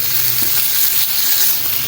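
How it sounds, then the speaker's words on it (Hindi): Keema kabab mixture frying in a pan, a steady loud hiss of sizzling close up that continues without a break. "इसको इस तरह थोड़ी सी देर फ्राई करेंगे जी।"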